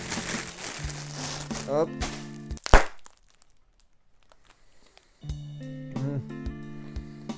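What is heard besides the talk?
tearing open a plastic freshness sachet packet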